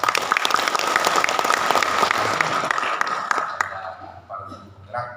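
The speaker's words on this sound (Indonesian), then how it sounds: "tepuk tangan Kepala Sekolah Penggerak." A hall audience at a regional school-program evaluation event applauds school principals, a loud, full burst of many hands clapping that thins out and fades away after a few seconds, leaving scattered voices and room noise.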